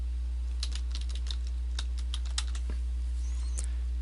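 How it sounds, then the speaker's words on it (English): Someone types a domain name on a computer keyboard, a quick run of soft, close key clicks in irregular bursts over a low steady hum, then a few scattered taps, no voices. "And then type in your domain name"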